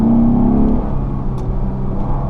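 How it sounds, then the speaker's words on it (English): 2015 Lexus GS 350 F Sport V6 accelerating hard, a loud, close engine drone with a brief higher tone early on, steady throughout and heard from inside the car without speech. "This car definitely does sound good when you step on it."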